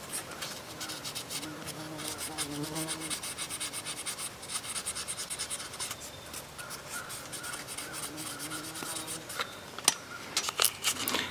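A rusty old pocket knife being cleaned at the bolster, giving a steady, close scratchy rubbing and rasping that continues almost without pause, fairly quiet, with a few sharper clicks near the end.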